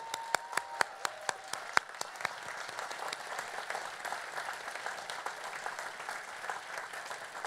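Graduates at a university commencement ceremony applaud their faculty, opening with a few sharp, loud claps before settling into steady, dense applause from a large crowd that continues throughout.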